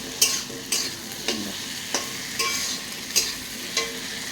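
Cut taro and potato frying with salt and turmeric, with onion and chilli in the pan: regular spatula scrapes about every half second over a steady close sizzle.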